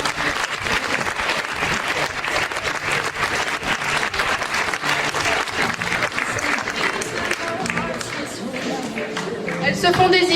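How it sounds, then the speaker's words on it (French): An audience at a beauty pageant gala gives sustained, dense applause for the make-up artists, a steady wash of clapping from many hands that swells slightly near the end, with a voice heard over it. "Vous pouvez les applaudir, elles arrivent."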